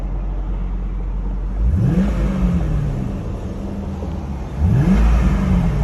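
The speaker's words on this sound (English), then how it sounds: "We'll let you hear the motor a little bit." A Chevrolet Corvette C5 V8 engine idles steadily nearby, then rises in two brief, light revs, each climbing and settling back to idle, with no talking over it.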